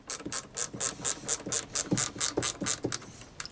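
A ratchet wrench loosening a 5/16 nut on the starter solenoid of a Bandit Model 90 wood chipper clicks in quick, regular bursts of about a dozen strokes, close by and fairly quiet, with no talking.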